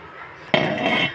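A single metallic clank as a lid sets down on a pot of boiling fish curry, followed by a brief ringing rattle over low kitchen hiss.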